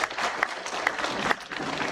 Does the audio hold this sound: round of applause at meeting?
yes